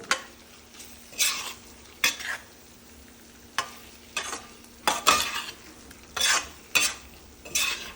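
Green chillies for pickle are stir-fried in oil in a pan, with a soft continuous sizzle broken by repeated scraping strokes of a spoon against metal, close and unaccompanied by speech.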